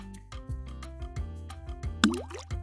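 Water drips and splashes in quick irregular bursts, with a brief gurgling pour near the end, close and fairly quiet.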